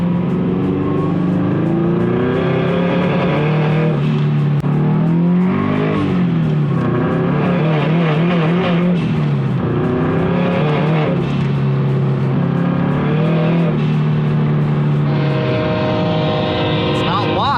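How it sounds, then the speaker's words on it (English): A turbocharged Subaru BRZ revving hard under load, the engine note repeatedly climbing and cutting out as traction control intervenes, with wastegate blow-off, loud and close, while people talk over it. "every time I got on it, you could hear the blow off out of the wastegate cut"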